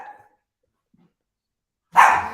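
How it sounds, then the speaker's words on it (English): A single short dog bark near the end, close and fairly loud, after a faint earlier yelp and a stretch of silence. "Can you stop barking?"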